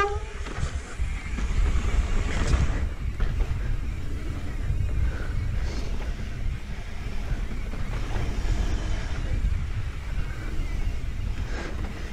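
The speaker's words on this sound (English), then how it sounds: "Solid wind." Wind blowing hard across the microphone at a mountain bike park on Mount Hood, a loud continuous low rumble and buffeting with no letup.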